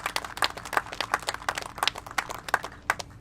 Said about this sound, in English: A round of applause for our Secretary Sutters.